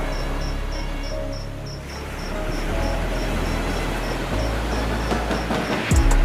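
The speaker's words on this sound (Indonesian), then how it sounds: "Saat suara jangkrik dan katak menemani di kesunyian malam" Night ambience with crickets and frogs: a steady, regular cricket chirp pulses over a dense bed of insect and frog calls, with a low hum underneath and a brief clunk at the very end.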